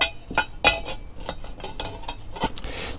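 Metal pots, pans and lids of a large Trangia camping stove set clink and clatter as they are handled, with a run of sharp knocks and scrapes close to the microphone.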